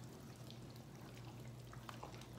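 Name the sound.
pouring a cup of water into corn and crab soup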